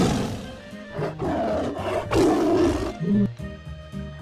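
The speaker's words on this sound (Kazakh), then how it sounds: "Жолбарыс" A tiger roars several times in a row, loud and close, each call a rough, swelling bellow with short pauses between them, with no other sound in the background.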